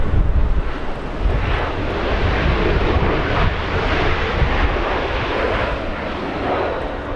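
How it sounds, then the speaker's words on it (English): A SkyWest airliner arriving at LAX from Oakland, California, roars by with a loud, broad engine rumble and whoosh that swells and holds steadily, with some wind buffeting on the microphone. "Next arrival we have this one flying in from Oakland, California."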